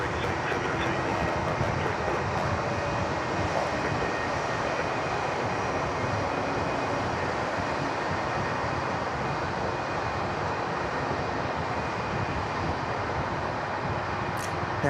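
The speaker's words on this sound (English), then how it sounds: "A little Jetstar 320 crossing the bridge just to add to the queue of departures." Jetstar Airbus A320 taxiing across a bridge at Sydney Airport during the morning departure rush, a steady distant jet engine rumble holding evenly throughout with no talk.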